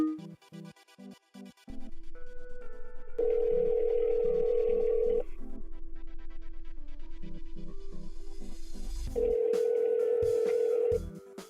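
A telephone call being placed by voice command, giving a series of short tones and then steady ringback rings heard clearly on the line, with no talking.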